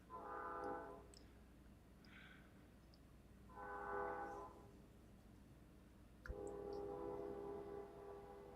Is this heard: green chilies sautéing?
no